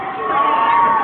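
Outdoor crowd at a political rally in Philadelphia, a steady dense roar of many voices close by throughout, with no single voice standing out.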